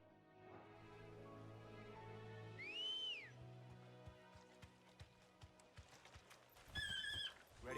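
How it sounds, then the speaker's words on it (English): Ambrosia, a summoned horse in a Final Fantasy game, gives a bright rising whinny, then hooves clip-clop in a quickening rhythm before another loud neigh near the end, with game music beneath. "Clive has finally been reunited with his faithful steed"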